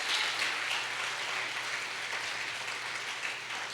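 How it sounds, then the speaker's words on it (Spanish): A church congregation applauds together, a dense, even wash of clapping that stays fairly faint and distant throughout, with little talk. "¿Alguien puede darle un aplauso a Dios?"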